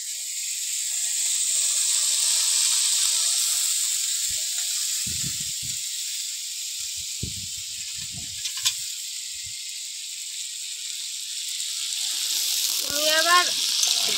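Butter heats in a kadai, giving a steady, bright sizzling hiss that holds at an even level throughout. Soft, faint knocks and a low voice sit beneath it.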